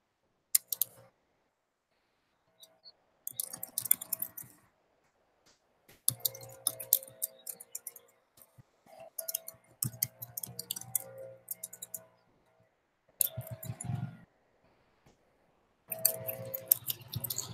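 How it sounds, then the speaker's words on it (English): Someone types into a chat on a laptop keyboard during a live online meeting, giving bursts of close, light key clicks separated by quiet pauses. "When I go quiet like this, I'm typing into the chat links here."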